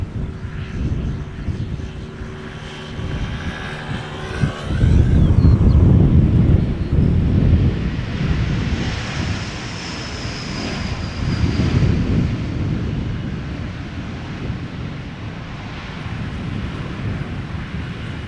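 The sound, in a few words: KLM airliner approaching to land at Schiphol airport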